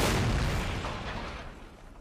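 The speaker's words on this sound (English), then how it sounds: "Fine work being done by the cannons of Charlie." Cannon fire in Mount & Blade's North & South mod during a Union Army line battle event: a loud, deep boom at the start that rolls off into a long, fading rumble with no voices.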